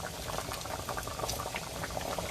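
Jamaican curry goat boils in a pot, a dense, steady bubbling with rapid little pops heard up close and continuous throughout.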